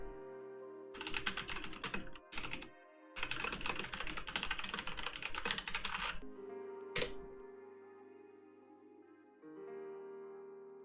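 Someone types a note on a computer keyboard in quick bursts of key clicks separated by short pauses, close and fairly clear, with faint background hum and no talk.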